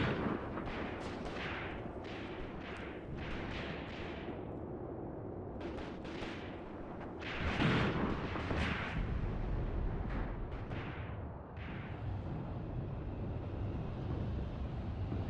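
Machine gun bursts and artillery fire ring out in a WW2 battle simulation game of a Wehrmacht armored offensive at Leningrad. Repeated sharp reports and booms sound over a continuous low rumbling battlefield din.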